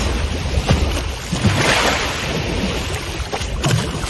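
Ocean waves wash in and out along the shore in a steady broadband rush of surf, with wind and water noise continuous throughout and a few louder swells rising and falling.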